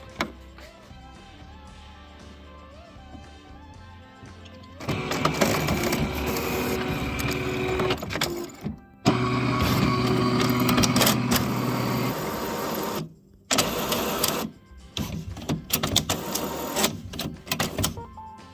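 An HP Officejet 6500 printer's paper-feed mechanism runs in bursts, its rollers turning and slipping with whirring, rattling mechanical noise that starts and stops several times, fairly close and loud.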